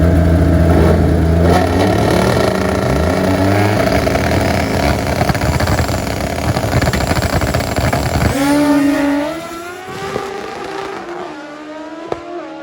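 A KZ drag-racing motorcycle with transmission trouble roars loudly at a drag strip, its engine revving and shifting through rising and falling pitches before the note fades and the engine settles into a lower, rougher sound.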